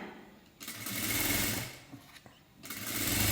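Sewing machine stitching piping onto a blouse neckline, a close rapid mechanical whirr running in two short bursts with a brief pause between.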